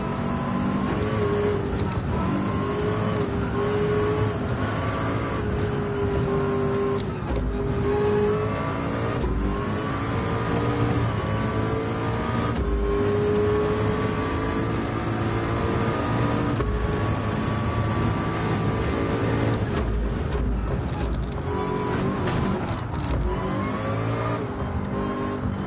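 Porsche race cars in a Le Mans VR racing game, a steady engine drone with rising and falling revs and gear shifts, continuous and fairly loud throughout with faint commentary underneath.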